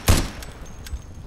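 Gunfire in the Insurgency video game: one sharp, fairly quiet shot followed by a couple of fainter reports, brief and spaced out against low background noise.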